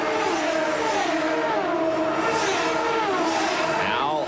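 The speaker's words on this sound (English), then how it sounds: "they come down the main straightaway looking for the green flag and a resumption of racing" CART Indy race cars at Surfers Paradise in 1991 accelerate down the main straightaway at a restart, a loud, continuous blended engine roar with rising whines that sweep past.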